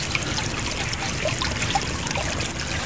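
A stream roughly six meters wide trickles steadily outdoors, a continuous soft wash of flowing water with faint scattered drips, no speech.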